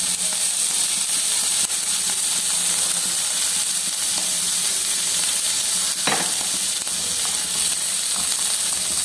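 Radish curry fries in a pan with a steady, loud sizzle and hiss, stirred now and then with a few faint scrapes, and no voices over it.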